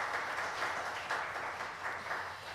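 A congregation at a Korean Sunday worship service applauds in praise, a steady, moderately loud bed of many hands clapping with no break.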